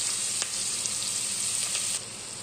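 Sliced onion and green chillies fry in hot oil left over from frying dried fish, giving a loud, dense, continuous sizzle with a few faint stirring scrapes, alone and close.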